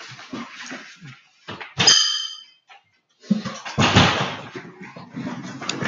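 A dog whimpers and barks to be let back indoors, with a sharp clang like a door latch. Scuffling and movement fill the background, with no talk over it.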